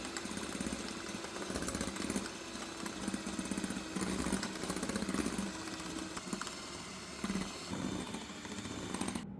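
An electric mixer whisks egg whites and sugar for a sponge cake, giving a steady, buzzing motor whir that runs unbroken for several seconds at close range.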